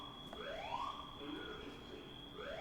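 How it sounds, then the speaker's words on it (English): A video game's emergency alarm sounds during a card-pack opening: rising siren-like sweeps repeat over a constant high beeping tone, moderately quiet throughout. "I do not like this emergency alarm going off."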